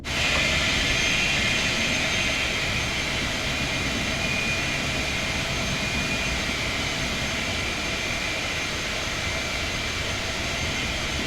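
Boeing 707 jet engines held at taxi power in a flight simulator, a steady loud roar with a high whine, continuous for the whole stretch.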